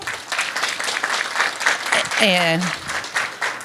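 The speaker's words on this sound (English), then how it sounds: "I think we need to give Sandy a round of applause." Audience applause for Sandy at an event announcing Crossroads results, a steady clapping crowd under a man's speech, with a brief rising vocal tone partway through.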